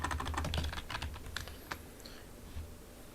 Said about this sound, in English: I'm just going to be typing in some very simple code